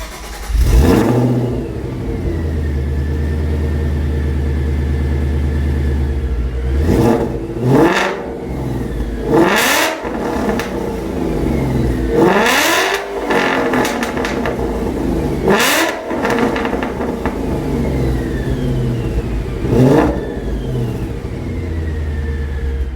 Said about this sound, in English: I want to give y'all a quick little exhaust note to the car